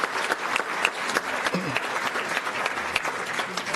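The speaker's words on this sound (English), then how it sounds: "So that alone deserves a round of applause for these athletes" Applause breaks out at a city council meeting in honour of student athletes, with scattered, moderately quiet clapping from a modest crowd in a meeting room, individual claps audible through the steady patter.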